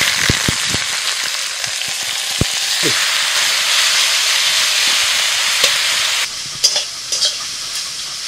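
Boiled susuni greens tipped into hot oil with dried and green chillies in a wok start with a few sharp clicks, then settle into a loud, steady hissing sizzle with occasional stirring knocks.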